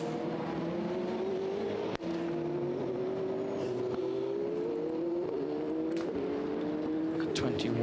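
A 2017 Le Mans 24 Hours prototype race car crawls along slowly with a right front puncture, its engine a steady low drone that rises gradually, with a sharp click near the start and faint ticks later.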